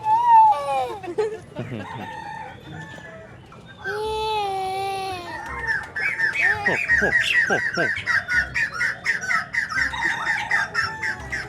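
A rooster crows loudly nearby on a farm, followed by a long stretch of squawking and clucking from fowl, with other birds chattering over the top.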